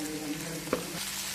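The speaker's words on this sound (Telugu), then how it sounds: "మంచిగా అల్లం పేస్ట్ మంచిగా బ్రౌన్ కలర్లోకి రావాలండి" Ginger paste and curry leaves frying in a pan, a steady close sizzle running throughout with a brief stir or clatter near the middle.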